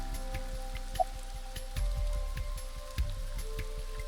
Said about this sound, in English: This rain is awful, huh?